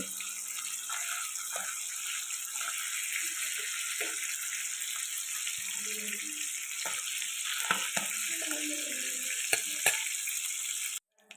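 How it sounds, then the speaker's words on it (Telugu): Fish sizzles steadily in hot oil in a pan, a continuous dense frying crackle with scattered pops and light utensil clicks toward the end, no one talking. "ఇలాగా ఆయిల్లో ఫ్రై చేసుకోవడం వల్ల చాలా టేస్టీగా ఉంటుందండి రెండు వైపులో ఫ్రై చేసుకుందాం"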